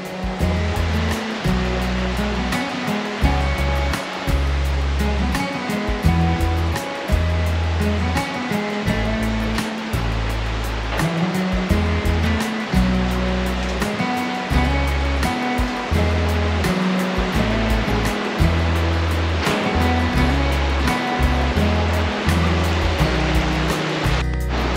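A river rushes along the catwalk trail in the Gila National Forest, a loud, steady roar of running water with rhythmic surging pulses, continuous and close with no talk over it.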